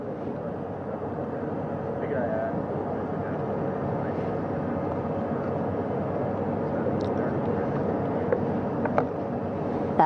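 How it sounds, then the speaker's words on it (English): A helicopter hovers over the sea, hoisting an astronaut aboard after the Artemis 2 splashdown. Its steady, loud rotor and engine roar runs unbroken throughout. "Third astronaut in the air, getting hoisted quickly back into the first helicopter now."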